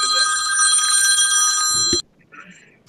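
A telephone rings loud and close in one continuous electronic trill for about two seconds, then cuts off, leaving brief faint sounds.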